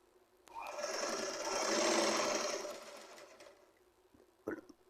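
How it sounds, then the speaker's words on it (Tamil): A domestic sewing machine stitches across the front of a neckline, running in one steady whirring burst of about three seconds that swells and fades, followed by a brief clack near the end, with no talking. "இப்போ முன்பக்கமாக வச்சு அடிக்கிறோம் கழுத்தில்"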